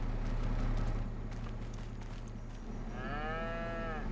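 Cattle mooing in Farming Simulator 25 on a Montana farm map, a drawn-out bovine call rising late in the clip over a steady low engine-like hum and a muffled game background.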